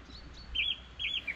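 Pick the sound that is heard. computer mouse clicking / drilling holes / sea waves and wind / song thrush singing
song thrush singing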